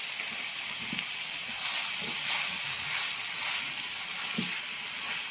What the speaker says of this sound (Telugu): ఇప్పుడు ఇందులోకి టమాటో వేసుకొని ఫ్రై చేసుకోవాలి